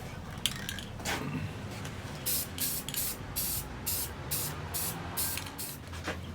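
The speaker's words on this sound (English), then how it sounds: "When you're spray painting, lay it on thin, in thin coats." An aerosol spray paint can lays on thin coats in a series of short hissing bursts with brief pauses between them, close and fairly quiet.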